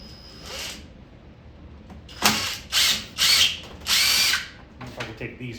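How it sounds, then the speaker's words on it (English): A power drill unscrews screws on a 2008 Golden Tee arcade game cabinet, with several loud whirring bursts of a second or less in quick succession and brief ratcheting between them. "Just keep unscrewing stuff until something happens"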